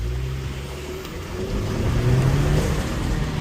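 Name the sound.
Chevrolet Colorado Trail Boss turbo engine accelerating from a stop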